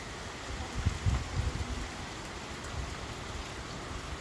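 Rain falls steadily in Bathinda, a soft, even hiss of drops on surfaces with a few slightly heavier patters, fairly faint and uninterrupted.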